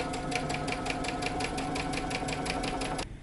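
A sewing machine stitches the underarm seam of a T-shirt sleeve in a fast, even run of rapid needle strokes, close and loud, stopping abruptly near the end.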